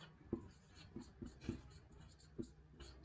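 Quiet pen strokes on paper while working through a maths problem: soft, brief scratches come in short bursts with pauses between, faint and close.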